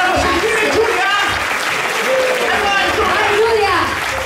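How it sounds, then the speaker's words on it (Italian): An audience applauds at a charity music event, with dense, loud clapping running continuously throughout and a few voices mixed in. "Fate un applauso di Deodato."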